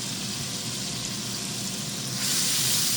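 Steady sizzle of an ingredient dropped into hot extra virgin olive oil over low heat, a continuous close frying hiss that grows slightly brighter and louder near the end, with no talking.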